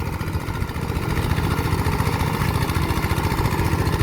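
A Kubota walk-behind tractor engine runs steadily in a field in Laos, a loud, close, continuous chugging drone with a fast regular pulse and no voices over it.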